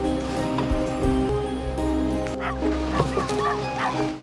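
A dog barks and whimpers loudly and close as a man comes into a house, its yips and whines running continuously over a low background.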